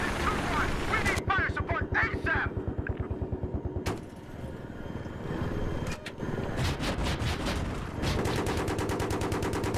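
Rapid bursts of automatic gunfire in Battlefield 3 co-op, loud and rhythmic, with short pauses and sharper single shots breaking in.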